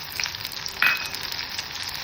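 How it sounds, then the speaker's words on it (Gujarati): Garlic paste hitting hot oil, a bright close sizzle with a sharp flare and a quick stirring scrape partway through. "ચાલો તેલની અંદર સરસ મજાના લસણ બી નાખી દઈએ. ચાલો ગાર્લિક પેસ્ટ નાખી દઈએ."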